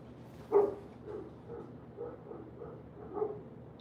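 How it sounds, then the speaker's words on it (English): Several dogs bark in the distance, a handful of muffled woofs spaced irregularly against a quiet room hum. "So they're probably barking at the church kids."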